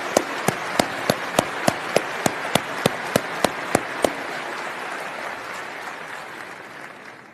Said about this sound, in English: I'll lead the applause for them.